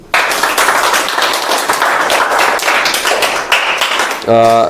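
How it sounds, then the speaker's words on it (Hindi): Acting workshop participants clap for a performer in a room, a close, loud group clapping with distinct individual hits, cut off at the end by a brief tonal sound. "इनके लिए ताली बजाइए"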